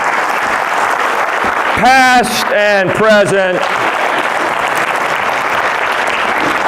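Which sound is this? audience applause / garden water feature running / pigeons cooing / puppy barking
audience applause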